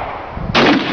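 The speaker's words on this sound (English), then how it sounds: "Just fucking shot myself." A single loud gunshot, close by, from a shooting mishap in which a person is hit: a sharp broadband blast about halfway through that lingers briefly before fading, with faint low rumbling ahead of it.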